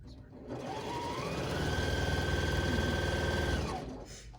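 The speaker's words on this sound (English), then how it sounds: "So you're going to sew them back just like you cut them" Sewing machine stitching quilt patches together for a four-patch quilt block, a steady close whirring run of needle strokes lasting about three seconds, starting and stopping cleanly.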